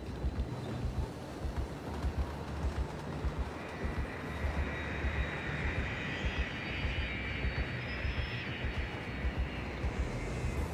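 Aircraft at an airport in the Cities: Skylines video game give off a steady, broad engine roar that holds at an even level throughout, with a faint rising whine near the end and no talk.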